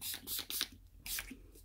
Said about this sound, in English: now I'm going to spray my face down real quick with the Urban Decay All-Nighter.